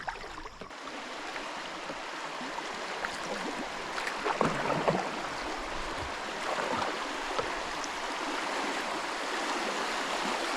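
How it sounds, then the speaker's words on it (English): Eleven Point River water flows steadily past during a float trip, a continuous close rushing and gurgling with small splashes and knocks, no voices. "This has always got water flow down through here."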